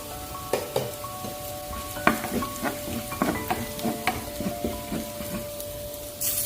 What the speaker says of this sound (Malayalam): വെളുത്തുള്ളി, ചുമന്നുള്ളിയും കരിയാപ്പിലയാണ് എനിക്ക് കിട്ടുന്ന പറഞ്ഞാൽ കുഴപ്പമൊന്നുമില്ല, വേണം കിട്ടും, ഏറ്റില്ലെന്നേ ഉള്ളൂ. അതൊന്ന് വഴറ്റി കുറച്ച് മഞ്ഞൾ